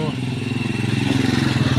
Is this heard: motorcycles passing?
yes